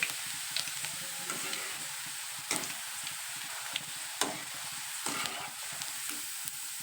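Sliced sweet potato chips fry in hot oil over a gas flame, a continuous even sizzle punctuated by occasional sharp clinks and stirs, heard close with no talking.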